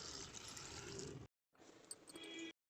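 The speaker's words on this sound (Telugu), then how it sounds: "ఒక గ్లాస్ వాటర్ పోసుకుందామండి." A glass of water is poured into a cooking pot holding brinjal, tomatoes, onions, turmeric, tamarind and salt, a faint splashing stream in two short bursts separated by a brief silence.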